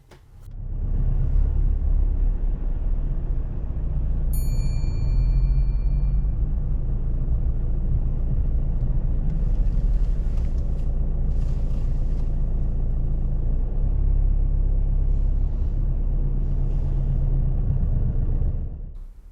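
A car's engine idles low and steady while reversing slowly during a driving lesson, a continuous close rumble that holds for most of the stretch before cutting off at the end.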